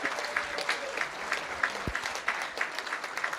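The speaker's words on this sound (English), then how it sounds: "Let's give a round of applause to our parents and our supporters of these students." Audience at a school board meeting applauding, moderate clapping from a modest crowd in a room, steady and continuous with a few louder claps.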